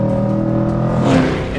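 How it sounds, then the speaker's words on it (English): A 2020 Chevrolet C8 Corvette Z51 with its V8 engine running, a loud close droning hum that holds steady and then swells briefly, as if building revs, before easing back down. "it has a really effective engine. Just a proper Corvette V8."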